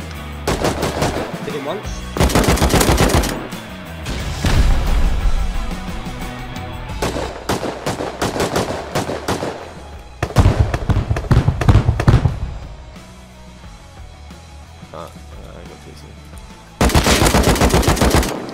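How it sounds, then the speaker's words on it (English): Loud, close gunfire in the survival game Rust, with repeated bursts of rapid automatic shots separated by brief pauses, and a few spoken words between the volleys. "That's me shooting."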